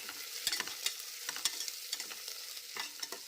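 Onions frying in oil in a pan for bagara rice, with a steady bright sizzle and irregular clinks and scrapes of stirring throughout, close and fairly loud, no talk.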